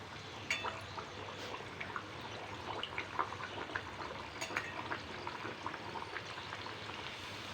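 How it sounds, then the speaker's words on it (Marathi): Kombdi vada frying in hot oil gives off a quiet, steady sizzle with scattered crackles and pops, close up and without any talk. "तेल आपलं गरम झालेलं आहे तर आता आपण याच्यामध्ये हा वडा सोडून घेऊया"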